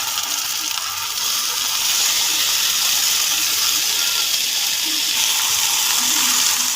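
Chicken pieces frying in hot oil with ginger-garlic paste for a chicken curry give a loud, steady sizzle and hiss. It holds unbroken from start to finish with no talking.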